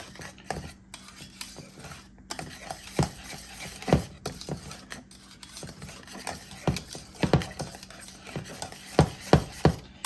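Pie filling ingredients with a pinch of salt stirred in a bowl, a steady run of scraping and clinking spoon strokes with soft rubbing between, close and fairly loud, no talking.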